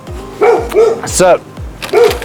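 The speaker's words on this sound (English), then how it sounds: "Excuse the dog in the background, we are in a garden after all." A dog barks several times in an outdoor garden, the sharp barks coming in short bursts of two or three under a person speaking nearby.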